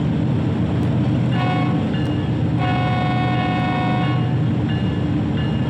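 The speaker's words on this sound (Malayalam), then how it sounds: "ഉദാഹരണത്തിന് സ്പേസ് ബാർ ഞെക്കി ഹോൺ അടിക്കാം." Train horn sounded in a train simulator game, sustained chord blasts repeated over a loud constant rumble of the moving locomotive, close and without talk.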